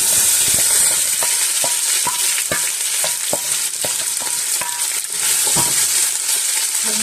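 Onions frying in hot oil for a Sri Lankan mutton curry, heard close up as a steady, loud sizzle. Scattered clicks of stirring run through it and nobody speaks.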